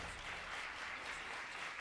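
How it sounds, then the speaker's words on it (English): Faint, steady applause from a distant audience welcoming a speaker to the stage, continuous clapping with no voices over it. "Give him a round of applause."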